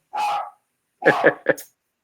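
A dog barks in short bursts: one drawn-out bark, a pause, then three quick barks close together, loud and near with no talking over them.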